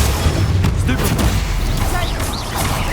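Stupefy stun spell cast in Hogwarts Legacy mid-combat, a sharp burst and crackling impact amid continuous loud fight noise and voices.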